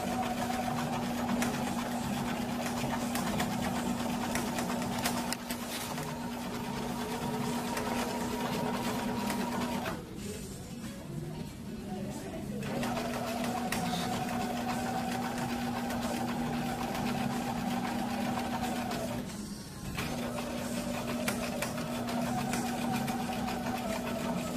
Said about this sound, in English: Because it's a permanent stitch, I want to back stitch as I start.